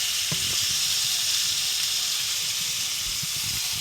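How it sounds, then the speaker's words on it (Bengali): Fish frying in hot oil makes a steady, bright hiss that holds throughout, with a few low thumps and rustles underneath. "তেলটা গরম হয়ে গেছে, মাছটা ভাইজে তারপর আমি রান্নাটা করব"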